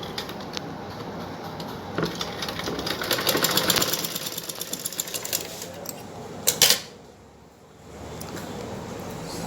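Sewing machine stitching pleats into a blouse, running in rapid rhythmic bursts of needle clatter with short pauses, then stopping into quiet; close and fairly loud, with no voices.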